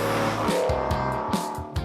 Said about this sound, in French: Quel bruit ce moteur!